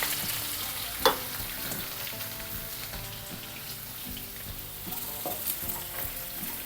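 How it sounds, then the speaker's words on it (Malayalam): Chopped onion and curry leaves sautéing in hot oil in a pan, producing a continuous close sizzle with a sharp clank near the start and occasional stirring scrapes. "ഇതിനകത്ത് 2 തണ്ട് കറിവേപ്പില ഇട്ട് കൊടുത്ത്, ഒരു വലിയ സവാള അരിഞ്ഞ് വെച്ചേക്കുന്നേ, അത് ഇട്ട് കൊടുത്ത്"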